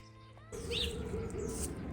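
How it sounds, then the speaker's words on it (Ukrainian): Sparrows in a snow-covered bush after a frost give a few faint, brief chirps over quiet outdoor background, sparse and somewhat distant. "чуєте, як птахи співають, якось так тривожно"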